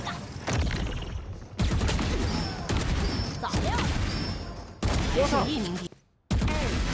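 Gunfire rings out in the first-person shooter Valorant as loud bursts of shots, with game effects and a voice talking over the action.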